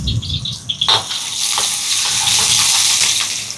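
Crushed garlic and ginger hit hot oil in a pan and fry with a steady, broadband sizzle that swells after a sharp onset and stays loud and close, with no talking.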